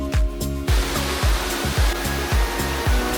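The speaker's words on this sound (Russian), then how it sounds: "Это каскад из 7 водопадов, стекающих по склону горы, окруженный густым лесом." The Seven Beauties waterfall near Gabala, a cascade of seven falls down a forested Caucasus mountain slope, roars as a loud, steady hiss of rushing water, broken by rhythmic low thumps close to the recorder.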